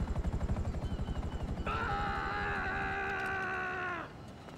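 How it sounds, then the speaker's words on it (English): A helicopter in GTA Online thumps with a steady, rapid rotor pulse, then a sustained wavering tonal wail rises over it and masks the chopping before fading. "It's a ghost helicopter. I can see it on the map, and I can hear it,"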